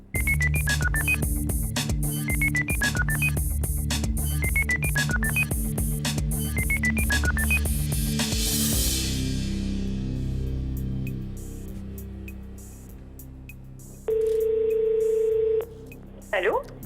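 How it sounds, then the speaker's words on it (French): A telephone number is dialed in a rapid series of tones over a steady hum, then the dialing stops and a single long ring tone sounds near the end. "La régie fait maintenant le numéro."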